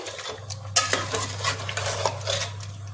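Masala for a chicken and potato curry fries in a pan while a spoon stirs it, clinking and scraping against the metal over a soft sizzle and a steady low hum, with no voices.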